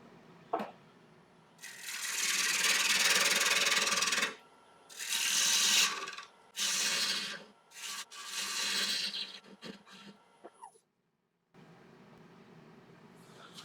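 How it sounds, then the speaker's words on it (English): A wood lathe faces off the front of a candlestick blank, giving a steady scraping, rasping cut in several bursts of one to two seconds separated by short pauses, with a quieter whir between cuts. "So I'll face off the front of it here."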